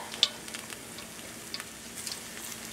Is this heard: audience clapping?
no